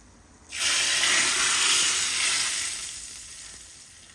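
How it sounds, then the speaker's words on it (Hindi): Hot tadka tempering poured into mung and masoor dal, Sindhi style, a sudden loud hissing sizzle bursting up and then slowly fading over a few seconds, close by, with no talking. "तो हम लगाते हैं तड़का।"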